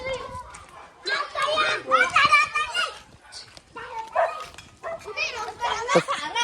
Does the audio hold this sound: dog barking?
yes